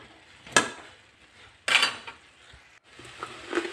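Pumpkin with chilli and crushed peanut powder is stirred in a pan, with two sharp metallic clanks of a spoon against the pan and softer scraping between them. The sound is close and no one talks.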